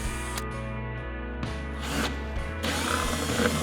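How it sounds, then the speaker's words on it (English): A power drill boring a hole through a house wall to run wire for an outdoor security camera, grinding and whirring in bursts that stop and restart several times, close and loud. "we're going to begin drilling"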